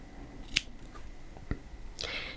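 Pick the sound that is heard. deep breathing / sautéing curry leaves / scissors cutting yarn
scissors cutting yarn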